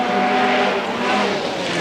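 A Lancia rally car races hard through a forest stage at the 1000 Lakes Rally in Finland, its engine a loud continuous roar close by.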